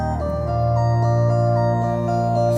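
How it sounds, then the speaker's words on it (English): String synth playing sustained chords in a rock track, rich harmonic layers with a deep low note underneath, changing smoothly from chord to chord at a steady moderate level, no voices. "String synth."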